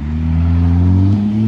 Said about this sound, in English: cars is just passing around and everything